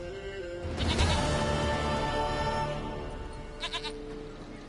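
A goat in The Witcher 3: Wild Hunt gives a long, wavering bleat up close, followed by a few short faint bleats.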